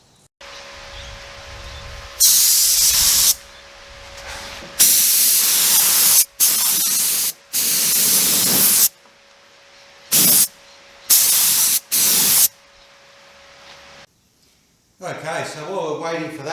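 Epoxy coat is sprayed onto an XT Falcon car body shell in loud, close hissing bursts of one to two seconds, separated by short pauses, with a steady mechanical hum underneath and a burst of garbled noise at the end.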